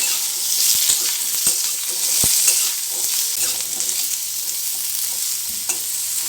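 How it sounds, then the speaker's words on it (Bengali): A dried red chilli and cumin seeds tempering in hot mustard oil in a kadai give a steady, close hiss of sizzling, broken by a few sharp clicks of stirring. "এটাতে পরিমাণ মতো কিছুটা সর্ষে তেল দিয়ে তাতে একটা শুকনো লঙ্কা আর কিছুটা জিরে ফোড়ন দিলাম।"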